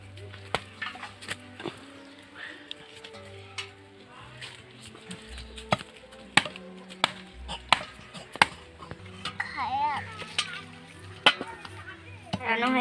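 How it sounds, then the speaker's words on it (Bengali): Palm fruit kernels being peeled by hand in a kitchen, a scattered series of sharp clicks and knocks at an irregular pace, close and fairly quiet, with faint background clatter. "দেখুন এবারে আটিগুলোকে ছাড়িয়ে নেব।"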